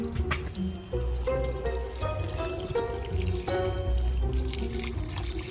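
Liquid fertilizer poured from a container onto the soil at the base of garden plants, a steady close trickle and splash with a faint bubbly gurgle, no talking.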